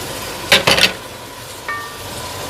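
Chicken with tomatoes, green chillies and yogurt is stirred in a pot, with a brief cluster of scraping, clattering spoon-on-metal knocks followed by a soft, low sizzle and a faint ring.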